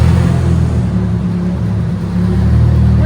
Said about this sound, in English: we have a new drift car